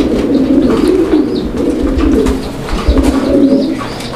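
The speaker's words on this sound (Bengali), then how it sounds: "কবুতরের জোড়াটা কত সুন্দরভাবে ব্রিডিং করছে" A breeding pair of fancy pigeons cooing close by, repeated low throaty rolling coos in overlapping waves across the whole stretch, with faint chirps and a soft flutter in the background.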